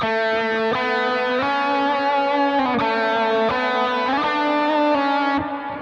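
Electric guitar plays the intro line of the worship song Lion and the Lamb, a clean sustained melodic phrase of distinct picked notes shifting between chord tones and a passing tone, alone and up close.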